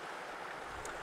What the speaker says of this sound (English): the sound of the water, you can hear it as well